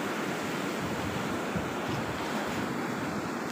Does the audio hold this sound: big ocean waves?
yes